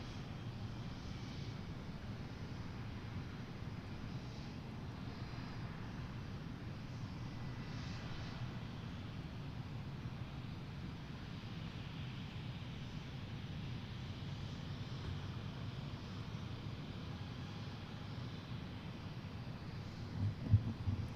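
A private jet takes off from a Boeing Field runway, heard as a faint, distant, steady engine rumble that holds evenly throughout.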